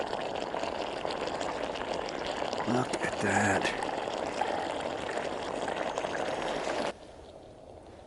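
A stovetop espresso maker gurgles and bubbles steadily as the shot brews, a continuous liquid sputter under a voice, cutting off abruptly near the end.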